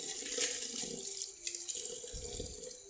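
Tap water runs steadily into a sink while leafy greens are rinsed beneath it, with splashing and gurgling shifting as the leaves are moved about, close and fairly loud.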